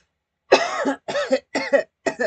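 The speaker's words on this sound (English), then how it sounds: "Non-smoker cough." Four short coughs in quick succession, close and fairly loud, with brief pauses between them.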